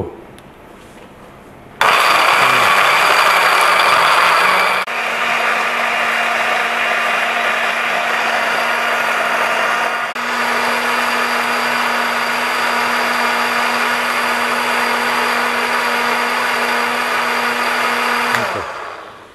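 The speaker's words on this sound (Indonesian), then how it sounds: "Nah, ini udah kita giling halus ya." Blender grinding spice paste for Singapore seafood laksa with coconut milk broth: a loud, steady motor whine running almost continuously, with the pitch dropping slightly as the load changes partway through, then stopping abruptly.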